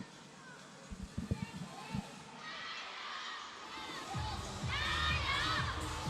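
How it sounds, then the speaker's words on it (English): Spectators at a WTT Champions 2024 men's singles table tennis match between Cho Dae-seong and Xiang Peng grow louder, a distant, quiet murmur building into cheering after a few sharp knocks early on. "the crowd makes itself heard right now"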